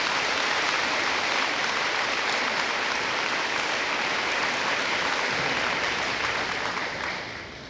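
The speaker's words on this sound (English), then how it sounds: "Give them a round of applause." Audience at a 1992 middle school dedication ceremony in Glasgow applauds architects and a principal, steady dense clapping filling the room for several seconds before tapering off at the close.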